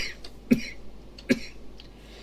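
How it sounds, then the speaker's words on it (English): A person coughs twice in quick succession, sharp and close, with a faint throat-clearing rasp between and after the bursts. "I started coughing there"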